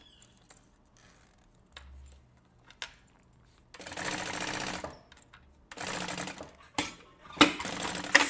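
A sewing machine stitches up along a wide bag opening in several bursts of rapid mechanical chatter, close and loud, separated by pauses with quiet handling noises.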